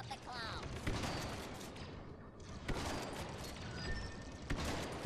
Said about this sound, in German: Das ist ein Schrot gewesen.